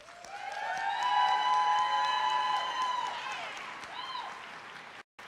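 Family and friends applaud the 2025 graduating class at a CMC Roaring Fork campus commencement, a swelling wash of clapping and cheering that rises and then fades, with a few tonal whoops near the end.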